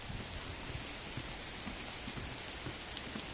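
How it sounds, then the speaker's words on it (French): Steady rain falls continuously, a dense hiss with scattered drops pattering on a surface nearby, with no voices. "Je sais qu'il pleut et que c'est pas drôle"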